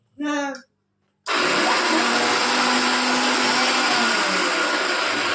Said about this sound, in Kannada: ಈ ಮಿಕ್ಸರ್ ಒಂದ್ ಎದಕ್ಕಂದ್ರೆ ಸುಮ್ಮನೆ ಗರ್ರು ಗೊರ್ರು ಮಾಡ್ತದ